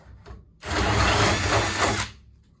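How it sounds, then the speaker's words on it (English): A power drill with a Ryobi door-knob jig bores a hole through a slab door, a loud steady grinding whir lasting about a second and a half, starting abruptly and stopping cleanly, with quiet handling noise before and after. "sometimes you'll feel like the drill stops drilling"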